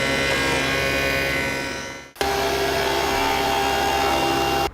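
A table saw fitted with a stacked dado head whines loudly and steadily while cutting a practice pass in wood, with a brief dip in the middle before the dense roar resumes until the end.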